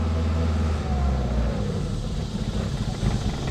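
A 1985 Honda Accord with old bad gas struggles to run, its engine giving a low, rough, uneven rumble close by that sags and surges without catching cleanly.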